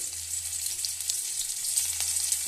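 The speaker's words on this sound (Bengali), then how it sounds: "তেল গরম হয়ে গেছে এবার আমি ফোড়ন হিসেবে একটা আস্ত শুকনো লঙ্কা দিয়ে দিয়েছি এবার আমি দিয়ে দেবো পেঁয়াজ কুচি" Chopped onion frying in hot oil with a whole dried red chili as tempering makes a continuous close crackling sizzle, with small spits and pops over a low steady hum.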